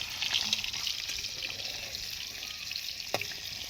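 Paneer fries in a pan over a strong flame, close to burning, with a soft, steady sizzle and a couple of faint clicks, heard quietly with no talking.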